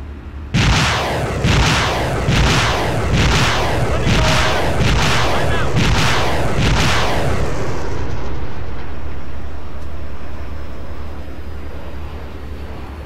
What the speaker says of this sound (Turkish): Bombalıyor şu an bakın. Bombalar düştü.